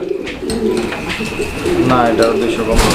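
Running pigeons cooing repeatedly at a pigeon farm, soft throaty coos close by, heard under a voice talking.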